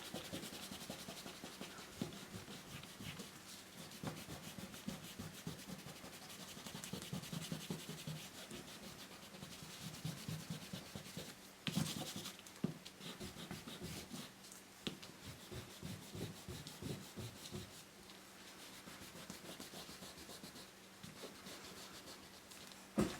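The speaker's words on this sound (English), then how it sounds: "So now I'm going to go in here and I'm going to erase all of these pencil lines." An eraser rubs pencil lines off a watercolor painting of an ice cream cone, making soft, close scrubbing strokes in irregular bursts that stay quiet throughout, with no voice.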